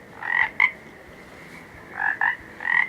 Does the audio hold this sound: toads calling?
yes